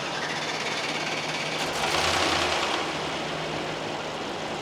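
A Mercedes GT63s engine turns over and catches, with a broad, steady mechanical rumble that swells briefly, then settles into a constant, fairly loud idle with no talking.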